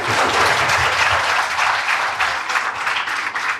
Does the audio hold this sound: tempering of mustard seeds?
no